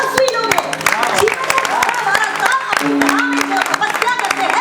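Audience applause at a Hindi keertan honoring saints Namdev and Tukaram: dense, steady clapping from many hands, fairly close, running the whole time with voices and music mixed in beneath.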